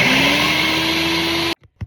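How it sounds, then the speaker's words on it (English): A loud blender whirs steadily while mixing dry keto bread ingredients, a close, constant motor drone with a rising whine that cuts off abruptly, followed by a couple of brief clunks. "I'm going to lock off again while the blender goes loud and crazy on you."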